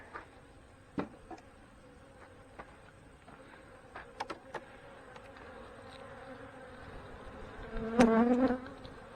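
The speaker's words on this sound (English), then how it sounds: "Shake them bees out of there." Honey bees buzz in a soft, busy drone during a hive inspection, with scattered clicks and taps, swelling into a louder, closer hum near the end.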